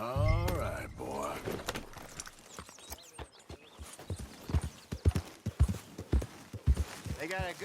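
Video-game horse hooves in Red Dead Redemption 2 clip-clop in a steady walking rhythm, close by, while someone talks over them and a horse briefly whinnies at the start.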